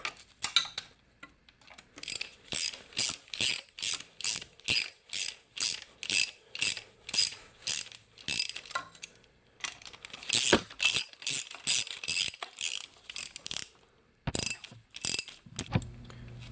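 Ratchet tightening bolts on a 2013 Dodge Dart 1.4L engine, clicking in quick, regular bursts of pawl ticks again and again with short pauses between strokes; close and crisp, with no voices.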